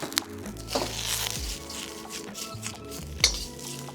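Chinese broccoli, mushrooms and tofu are stir-fried for pad see ew in a pan. Utensils clatter and scrape against the metal over a light sizzle, with a few sharper knocks, close up and without speech.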